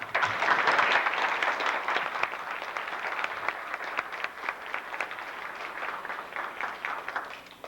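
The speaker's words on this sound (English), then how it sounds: "Give them a round of applause." Parents and guests applaud kindergarten graduates at a school ceremony: a burst of many clapping hands that starts strongest, then thins into a steadier, slightly patchy patter.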